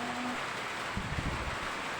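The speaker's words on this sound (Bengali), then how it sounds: "বৃষ্টির সাথে সাথে অনেক জোরে বাতাস বইতেছে" Heavy rain driven by strong wind, a dense steady roar of rainfall and gusting air filling the whole clip at a constant level, with no voices.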